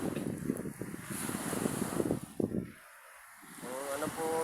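Sea waves rolling near the shore, a steady surf wash with wind buffeting the microphone, heard faintly beneath a voice.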